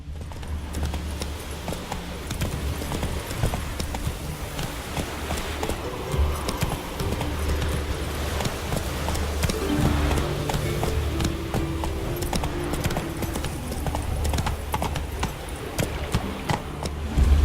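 Roach, a horse in the Witcher 3: Wild Hunt video game, gallops with a steady, rapid clip-clop of hooves that runs continuously at close range over a low rumbling background.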